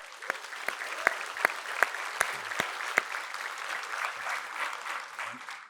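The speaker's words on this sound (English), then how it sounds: "Please give us a big round of applause for that milestone." Indoor audience applause at a company gathering, a steady wash of clapping from a crowd, with a few louder close claps standing out early before it fades slightly.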